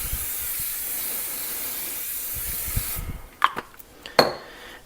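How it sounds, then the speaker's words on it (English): A steady hiss of cooking spray onto a hot pan for about three seconds, followed by a few light clinks and scrapes of the pan. "I'm going to use some cooking spray."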